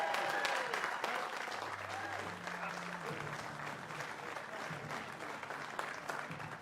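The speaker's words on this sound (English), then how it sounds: "Huge round of applause." Audience applause for the third-place finisher at the STIHL Timbersports British Rookie Championship 2024, steady and continuous, with a voice talking over it.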